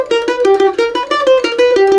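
Bluegrass mandolin walks up chromatically into the Slidey Lick, with quick picked notes in a bright, close, even rhythm, played alone without talk.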